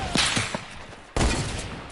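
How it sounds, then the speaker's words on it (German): Gunshots in the video game Fortnite: a quick burst of several sharp cracks, then a louder single shot with a lingering tail, all short and close. "Und noch ein Schuss, dann ist er tot."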